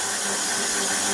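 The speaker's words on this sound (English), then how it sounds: "My whisk balloon attachment on, and we're just going to whisk this for a minute." Stand mixer running steadily with a balloon whisk attachment at slow speed, whipping a mixture for homemade sweetened condensed milk; a continuous close, even whir with a broad airy hiss and no pauses.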